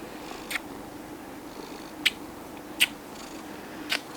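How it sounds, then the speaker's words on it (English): A cat purrs in a low continuous rumble, broken by a few short, sharp high clicks or chirps. "She tries to get away, but she's purring."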